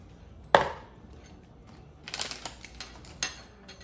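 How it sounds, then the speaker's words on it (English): Onions are chopped on a board: one sharp knock, then a quick cluster of lighter, irregular cuts and a final knock, fairly close in a quiet room. "So you're gonna chop onions."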